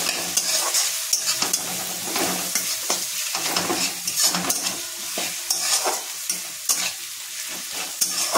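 Chopped onions fry in a pan with grated garlic and ginger for an egg tadka, a loud, constant sizzle broken by repeated scraping stirs of a utensil against the pan, with no speech.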